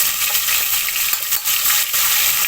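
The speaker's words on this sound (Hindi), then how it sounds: "अदरक लहसुन के पेस्ट को अच्छा सा ऑयल के अंदर भून लेंगे।" Ginger garlic paste fries in hot oil in a pan, a steady loud close sizzle with faint stirring scrapes, continuous throughout and with no talking.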